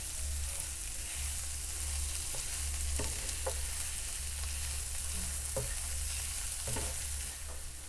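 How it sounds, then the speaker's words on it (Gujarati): Boiled, mashed green peas are stirred into a samosa filling in a hot pan, with a steady sizzle under repeated scraping strokes of the spoon against the metal. "વટાણાને મિક્સ કરી લઈશું"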